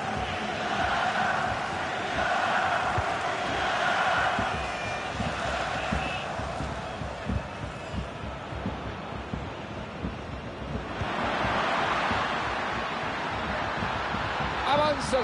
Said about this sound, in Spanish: Buena defensa, aplausos.